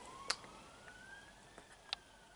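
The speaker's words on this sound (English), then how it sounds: "if you can hear that, that's a police car." A police car siren wails faintly in the distance outside a flat, its rising tone thin and steady beneath a quiet room with a few soft clicks.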